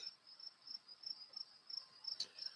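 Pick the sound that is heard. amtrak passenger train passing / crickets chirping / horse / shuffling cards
crickets chirping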